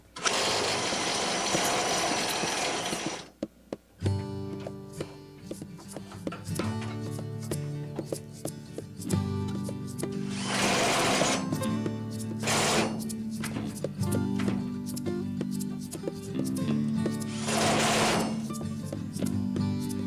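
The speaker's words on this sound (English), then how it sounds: "I was drilling into my spacer before." A loud, harsh burst of drilling into a metal spacer on a pickup truck opens, then a steady mechanical hum follows, broken by two shorter grinding bursts.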